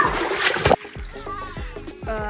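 A burst of water splashing in a swimming pool, a loud short surge of spray and slosh at the start, then quieter dripping with people talking nearby.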